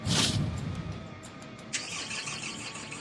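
A car frozen in minus-twenty-degree cold cranks during a jump-start attempt and fails to catch; a loud starter whir and squeal rise, then settle into a steady mechanical grinding drone with no talk.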